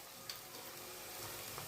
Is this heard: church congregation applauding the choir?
no